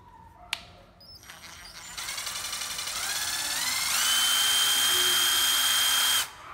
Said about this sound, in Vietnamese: Đây là con khoan bắn vít Makita nha mọi người.